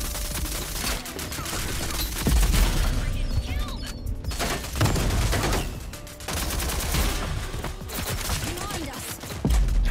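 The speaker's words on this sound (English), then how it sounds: "How are they shooting me in the back though?" Rapid bursts of gunfire in the Rogue Company shooter game, dense crackling volleys with brief pauses, loud and close throughout, with a voice talking faintly beneath.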